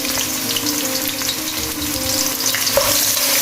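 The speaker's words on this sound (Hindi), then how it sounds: "अब हम अपने प्याज इसमें ऐड कर देंगे।" Sliced onions fry in hot oil for a chicken mandi, producing a loud, continuous sizzle with light stirring throughout, close up and with no voices.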